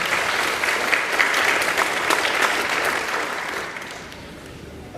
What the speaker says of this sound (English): So a round of applause for Siegel Majestic Life Touch.